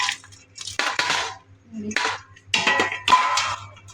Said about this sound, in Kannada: ಎಲ್ಲವನ್ನು ನಾನು ಒಂದು ಪಾತ್ರೆಗೆ ಹಾಕ್ಕೊತೀನಿ